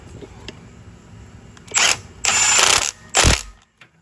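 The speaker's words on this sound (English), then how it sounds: "let me cinch it up real quick with my impact" Three loud, close bursts from an impact wrench set to a low setting, cinching a bolt on a Holley mid-mount accessory drive on an LS-swapped G-body, with short pauses between the rattling hits.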